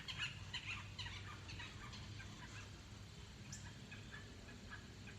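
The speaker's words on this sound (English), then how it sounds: "Can you hear the birds?" Faint bird chirps scatter across a quiet outdoor scene, light and intermittent over a soft low background rumble.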